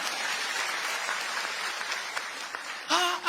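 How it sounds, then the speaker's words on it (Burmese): A church congregation breaks into sustained applause in praise of God, a dense, steady wash of clapping hands throughout, with a brief voice or swell near the end. "လက်ခုပ်တီးဖခင်ကျေးဇူးတော်ချီးမွမ်းရ"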